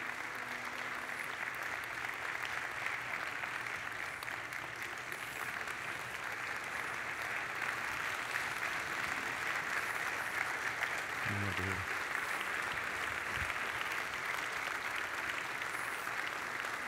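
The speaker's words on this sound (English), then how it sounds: "you know why all those people were clapping?" Sustained audience applause fills a church hall, a broad steady wash of clapping from many people lasting throughout, with a few low thumps near the end.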